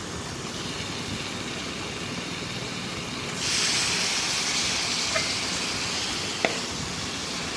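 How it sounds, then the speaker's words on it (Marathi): Pieces of eel fish (vaam) dropped into a hot pan with sautéed masala, a loud broadband sizzle surging in partway through and holding steady, with a couple of small sharp clicks afterward. "त्यानंतर आता मी त्यामध्ये वाम घालत आहे"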